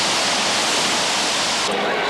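Water rushes steadily and loudly during a stage of the 1996 Rallye du Valais in Switzerland, a dense unbroken hiss that briefly thins near the end.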